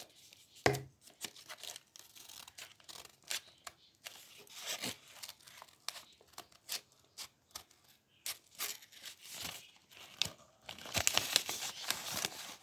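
Cardboard surprise box being cut open: a close series of irregular snips, crunches and crinkling scrapes, quiet overall, with a denser tearing stretch near the end and no talk.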